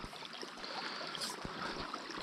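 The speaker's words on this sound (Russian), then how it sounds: "Это ручей уже проснулся. Вон, как мы видим, журчит полный ход." A spring stream trickles and burbles steadily, close by and soft, with small splashes and gurgles in a quiet outdoor setting just after the thaw.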